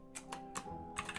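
Computer keyboard keys clack in a quick, uneven burst of typing, close and fairly quiet, with a soft steady hum underneath.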